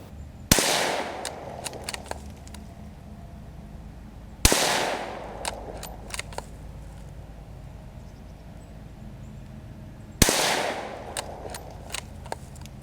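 Savage B17 FV bolt-action rifle in .17 HMR, firing 17-grain CCI A17 rounds at a range: three sharp, loud cracks spaced a few seconds apart, each followed by faint clicks and handling noise in between.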